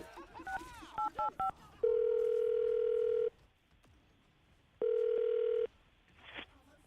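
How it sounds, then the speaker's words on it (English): A telephone line gives quick keypad dialing beeps, then a steady dial tone held for over a second, a pause, and another shorter tone burst, fairly faint with a little background noise. "I'm going to dial the phone number right now and see if we can get her on the phone."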